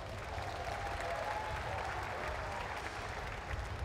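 Applause from spectators at a Ford Fiesta Sprint Cup podium ceremony at Zandvoort, a steady, dense wash of clapping that holds evenly throughout at moderate distance.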